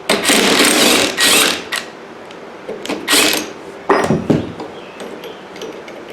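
A noisy pulley bearing from a Scotts 1642/1742 mower deck spins in loud bursts of grinding, rattling rumble, alternating with quieter gaps and handling clatter, close by.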